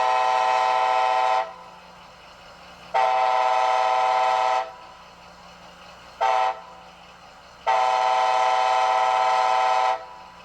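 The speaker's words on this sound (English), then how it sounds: "I want to do a grade crossing quill" A Bachmann HO scale Amtrak SC-44 Charger model train horn blows a grade crossing signal, four blasts in a long-long-short-long pattern, loud and clear with quiet pauses between.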